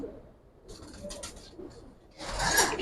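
Giribaz pigeons of an old breed coo softly in short murmuring bursts, followed by a louder, brighter rustle near the end.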